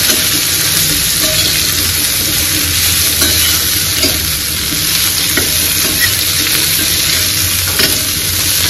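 Okra sautéed in a pan gives a loud, constant close-up sizzle, with a spatula scraping and stirring through it and no voices.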